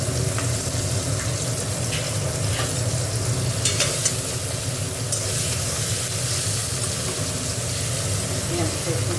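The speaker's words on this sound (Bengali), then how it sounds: "পেঁয়াজটা একটু ভাজা ভাজা করে" Onions fry in a pan while duck egg curry is being cooked, giving a steady close sizzle with occasional stirring scrapes, and faint talk is heard underneath.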